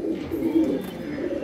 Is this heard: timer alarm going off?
no